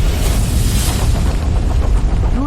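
A radar installation explodes with a loud, roaring boom: broad, rumbling blast noise that fills the whole moment without pause.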